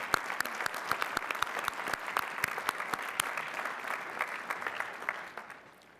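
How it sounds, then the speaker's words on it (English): A commencement crowd at Lehigh University in 2014 applauds new Doctors of Philosophy with sustained, dense clapping from a large hall audience that thins and fades toward the end. "Please recognize the Doctors of Philosophy with our hearty congratulations and applause."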